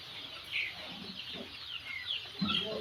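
Young Fayoumi chickens cheep and cluck faintly in a shed on a poultry farm, a scattered chorus of soft, high calls over a steady background hum.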